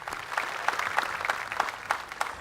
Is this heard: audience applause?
yes